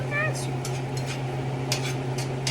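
Food for tacos stirred in a pot, scraping and clinking of a utensil against the metal in several short bursts over a steady low hum, with sizzling underneath.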